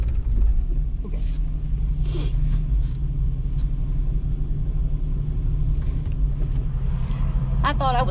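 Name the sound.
car driving past at a campsite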